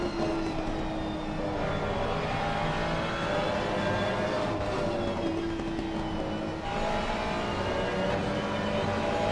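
Race car engine on an on-board lap of the Red Bull Ring in a sim racing series, a loud, continuous drone that holds steady and shifts pitch with the gears, with no voices.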